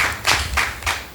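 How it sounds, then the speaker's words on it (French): An audience claps briefly for an invited guest on a talk programme, with a few distinct bursts of hand claps in quick rhythm over about a second. "Est-ce qu'on peut applaudir pour Madame Daoui"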